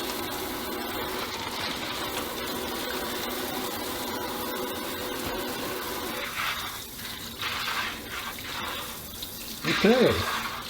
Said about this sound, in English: we just rinse off all the brine, all the extra salt.